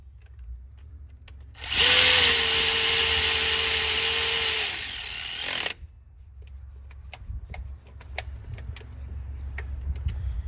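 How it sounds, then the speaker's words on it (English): Power tool tightening the bottom bolts on a Ford F150 5.4 Triton alternator: one loud continuous whirring run of about four seconds, then quieter clanks and handling noises of tools and parts. "Now you tighten the bottom bolts up."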